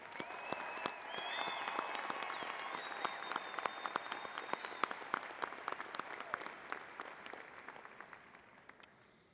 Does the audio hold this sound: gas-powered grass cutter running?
no